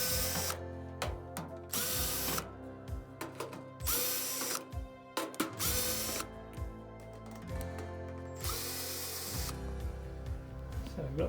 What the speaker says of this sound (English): removing all of these screws around the outside and lifting the drum up and slightly out of the way